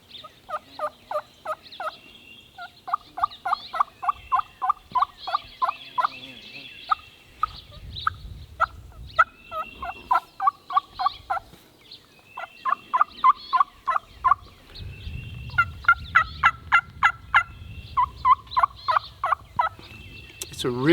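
Rapid runs of high, yelping wild turkey hen calls, soft raindrop yips, repeat in clusters with brief gaps, loud and close over faint low rumbling.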